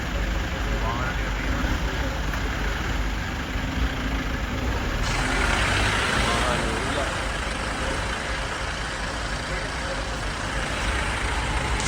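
Several safari jeeps idle together at Yala National Park in Sri Lanka, crowded around a leopard sighting. The engines give a continuous, fairly loud rumble under someone talking.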